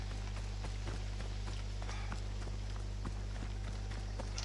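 Hooves from a horse in Assassin's Creed Odyssey clip-clop in a steady, rhythmic gallop, fairly close, over a constant low game hum with no voices.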